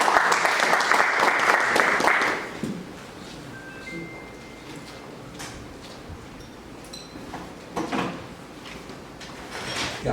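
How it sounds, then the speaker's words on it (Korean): Applause from a morning breakfast forum audience at an economic conference, a dense burst of clapping that fades after a couple of seconds, followed by a quiet room with scattered small knocks and shuffling. "큰 박수로 맞아주시기 바랍니다"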